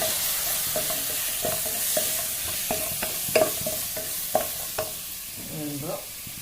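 Spices with tomato, coriander, chili, turmeric and cumin powders fry in a pan, a steady sizzle under sharp, regular clinks and scrapes of stirring, close by and without talk.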